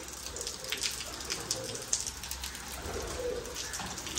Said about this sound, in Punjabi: ਇਹ ਕਬੂਤਰ ਜੀ ਮਾਸ਼ਾਅੱਲਾ